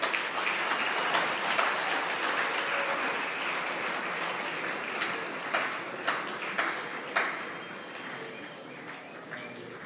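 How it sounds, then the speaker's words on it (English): Students in an education department event hall clap while leaders walk out, a moderate, fairly distant patter of applause that thins toward the end into a few sharper, scattered claps. "let's usher our leaders with the hand of applause while they are going out"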